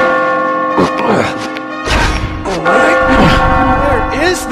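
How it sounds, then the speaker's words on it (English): Sustained bell tones ring out with a rich, steady hum while crashing game sounds and bangs punctuate the background, in the game Catherine. "As you near the top, you will hear a bell ring."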